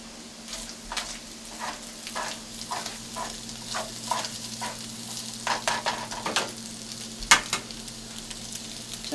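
Eggs frying in a pan with Spam and potatoes, a close steady sizzle broken by rhythmic spatula scrapes and stirring strokes, ending in one sharp clack.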